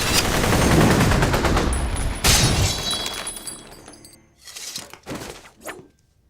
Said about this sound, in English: The next thing that we did is to actually put in the bullet hits.